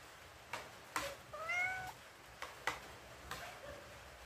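A cat begging for rice gives one short, rising-and-falling meow amid a few quiet clicks and taps, faint and somewhat distant, in a quiet room with no talking.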